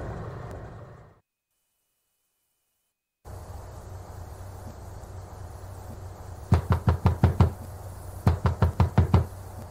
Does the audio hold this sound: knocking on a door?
yes